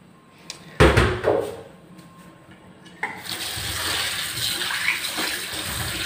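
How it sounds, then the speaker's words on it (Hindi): Black and green grapes being rinsed under running water, with a sudden splash and clatter, then a steady, close rush of water hitting fruit and a bowl. "तो अभी अंगूर वाश करने की बारी आ गई है, इसको अच्छे से धो लेते हैं अंगूर को"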